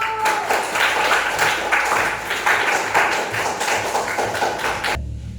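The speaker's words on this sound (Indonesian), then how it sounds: "Yeay, tepuk tangannya dulu" A classroom of seventh-grade junior high students claps together during a folk poetry lesson, a steady burst of dense applause lasting about five seconds before it stops abruptly.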